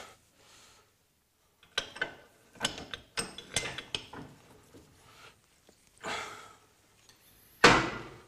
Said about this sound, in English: And I'll pop him in the vise.